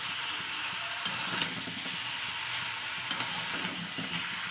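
Chicken fries with spices in a pan, a dense continuous sizzle with occasional scrapes of a stirring utensil, close and steady with no talk.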